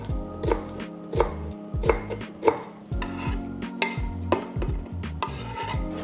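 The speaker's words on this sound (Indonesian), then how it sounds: "Aku potong daun bawangnya dulu." A knife chops green onion on a cutting board in steady, crisp strokes, with about a dozen distinct thuds spaced irregularly, close up and clear, with no voices.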